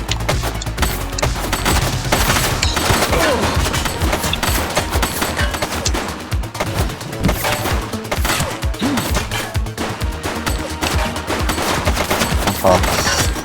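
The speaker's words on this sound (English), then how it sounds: "She's shooting!" Dense, continuous gunfire rattles through a shootout in The Precinct video game, loud and sustained bursts layered over a thick game soundscape with background voices and music.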